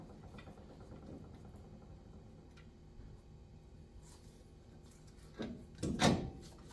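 A Nissan Xterra axle shaft slid into a rusty wheel bearing, a faint low scraping and grinding, then a couple of sharper metallic knocks and a louder sliding thud near the end, with no talking.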